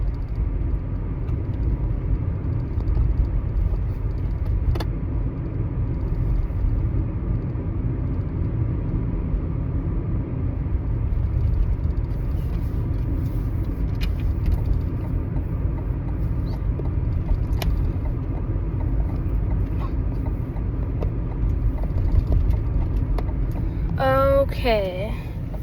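A car's engine and road rumble drone steadily from inside the cabin, a low continuous hum with faint clicks and a brief rising squeak near the end.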